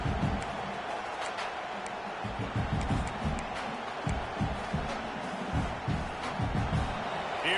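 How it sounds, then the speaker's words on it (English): Stadium crowd at a college football game, Oklahoma against Michigan, a steady distant roar of cheering swelling in waves beneath a commentator's voice. "this crowd is turning it up a notch"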